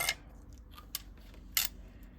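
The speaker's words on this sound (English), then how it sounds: "We want my ribbon scissors." Two or three crisp snips of scissors cutting ribbon, separated by quiet pauses, close by with soft background rustle.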